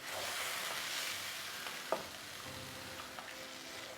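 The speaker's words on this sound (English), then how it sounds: "To deglaze, it's a bit better to use a non-metal spoon because you don't really want to scrape the bottom." A non-metal spoon deglazes the bottom of a soup pot, giving a steady close sizzle with soft stirring scrapes and a brief louder knock midway, without any talk.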